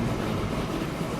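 A train runs in the railway-building game Transport Fever, giving a dense, steady rolling rumble that stays constant with no voices over it.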